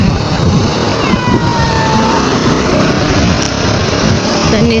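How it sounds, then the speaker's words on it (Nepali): Motorbikes moving along a road in a steady, loud wash of engine noise and passing traffic that stays dense throughout, with no clear gap between vehicles. "बाटोमा चाहिँ बाइकहरू हिँडिरहेछन्।"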